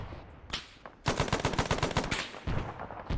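A machine gunner fires a rapid automatic burst during a military training engagement against a suspected mortar position, loud and close, after a single earlier shot and some background noise.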